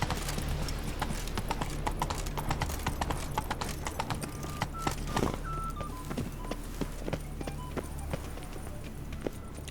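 Roach, a horse in The Witcher 3, gallops with steady, rhythmic clip-clop hoofbeats, close and clear, while faint talk sits low underneath.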